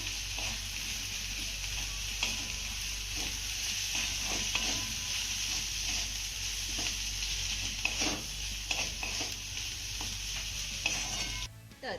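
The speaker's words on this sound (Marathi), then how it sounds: "आता हा ठेचा आपल्याला दोन ते तीन मिनिटं चांगला परतून घ्यायचा आहे" Guar bean thecha sizzles steadily as it is sautéed and stirred in a pan with freshly chopped coriander, a constant close frying hiss with faint scraping stir sounds throughout, ending abruptly.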